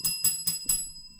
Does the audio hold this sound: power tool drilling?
no